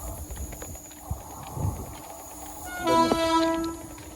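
A train horn blares briefly partway through over a low rumbling rail background, with no one talking.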